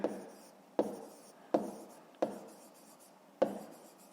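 Pen strokes scratch on paper while a math solution is written down, five short quiet strokes at even intervals, close up and alone.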